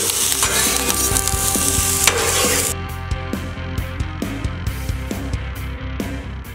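Vegetables for fried rice sizzle loudly on a flat top outdoor griddle as they are tossed, with steady frying hiss broken by repeated metallic spatula scrapes and taps in an uneven rhythm, close up and with no talking.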